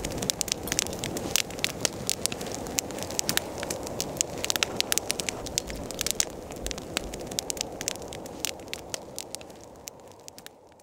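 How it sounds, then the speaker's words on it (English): A campfire crackles beside a gently flowing river on a calm night, sharp pops and snaps scattered steadily over a soft continuous rush of water. "sitting here with a good meal and crackle of the fire and the gentle flow of the river"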